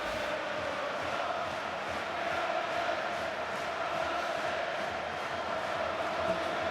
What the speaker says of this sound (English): the Wigan supporters with a try to cheer at last